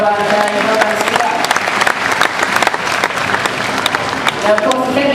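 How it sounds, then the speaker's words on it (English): Sustained applause from a live audience after an animal demonstration in Australia, dense and fairly loud throughout, with voices mixed in among the clapping. "Round of applause."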